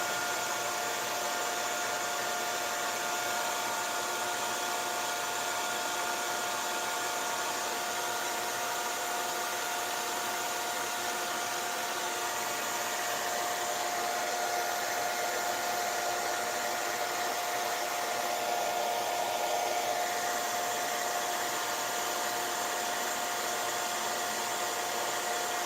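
A hair dryer blows a steady, loud, unbroken whoosh for the whole stretch while drying wet paint on a homemade Halloween Pikachu costume, with no talking over it.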